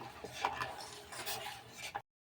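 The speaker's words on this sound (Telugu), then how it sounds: "షుగర్ కరిగేంత వరకు ఇలా కలుపుతూ ఉండాలి" A spoon stirs sugar into thick milk in a pot while making sheer khurma, giving soft scraping and rubbing strokes with a few light metallic clinks, quiet and close, with no talking.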